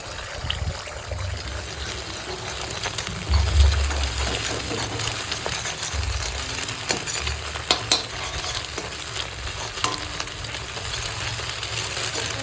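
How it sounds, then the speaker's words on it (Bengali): Egg scrambled and stirred in hot white cooking oil in a wok for chowmein, a steady close sizzle with occasional scraping strokes and no talk. "কড়াই দিয়ে দিয়েছি সাদা তেল তো ডিমটাকে এখন ভুজিয়া বানিয়ে নেবো"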